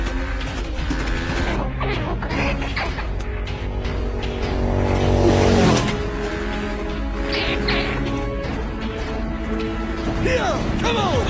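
Vehicle racing fast through an animated movie chase, revving engine and whooshes amid crashes and effects, with voices shouting over the busy mix.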